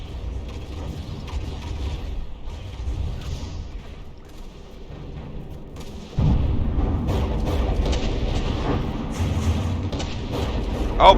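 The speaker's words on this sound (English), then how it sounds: "Definitely a higher volume of fire coming out of the Hellfire." Heavy guns boom in a battleship brawl between Hellfire and Rising, with layered artillery rumble and mechanical clatter that grows louder and denser partway through. A voice speaks faintly underneath.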